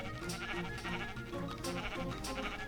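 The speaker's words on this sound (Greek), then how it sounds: "βρήκα και ένα ροζ πρόβατο" A pink sheep in Minecraft gives several short, faint bleats at a loose, repeating rhythm against quiet game ambience.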